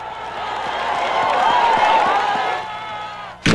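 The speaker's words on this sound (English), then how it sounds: "as she demonstrated her miracle, the crowd rejoiced" A crowd at an African evangelistic crusade cheers and rejoices in a continuous, swelling wash of voices and scattered claps that peaks midway, then briefly dips before a sharp burst at the end.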